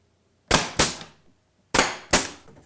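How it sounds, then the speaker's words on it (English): An 18 gauge brad nailer fires into pine trim four times, sharp loud snapping pops arriving in two close pairs with a quiet gap between them and no talking. "use an 18 gauge brad nailer to attach this"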